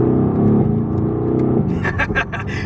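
A 2020 Mercedes-AMG GT R engine rises from a steady low drone as turbo boost builds, then opens into a louder, rougher growl heard from inside the car.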